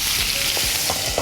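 Onion pieces fry in a pan for a gongura pulusu curry, making a steady close sizzle with soft stirring scrapes and no voices.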